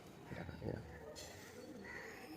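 Soft cooing of a male pigeon held in the hand at a loft, a few low murmuring coos in quick succession, faint and close, with someone talking over it.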